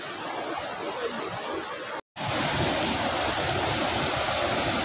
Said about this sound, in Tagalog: Ayan na ang falls.